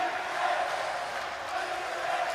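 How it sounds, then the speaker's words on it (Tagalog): A Villa de Bacolor basketball crowd at a Delta Cup game chanting and shouting in a steady rhythmic roar, dense and continuous, heard from within the arena. "look at the crowd, shouting defense, a Pro Villa de Bacolor crowd right now"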